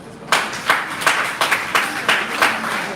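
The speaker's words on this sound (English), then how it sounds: "Let's clap ourselves." Audience clapping in rhythmic unison at a youth convention computer training session, about eight even claps spaced roughly a third of a second apart, loud and close with no talking.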